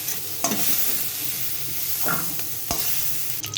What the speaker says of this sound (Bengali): সবজিগুলো ভাজি আমার ভাজা হয়ে গেছে বিনস আর কড়াইশুটি